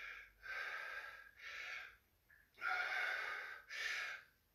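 A person doing shoulder exercise reps breathes heavily, with four long, loud, forceful breaths through the nose and mouth, spaced close together against a quiet background.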